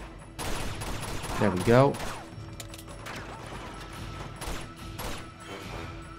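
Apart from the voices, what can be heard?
rocket fired in the video game Uncharted 2: Among Thieves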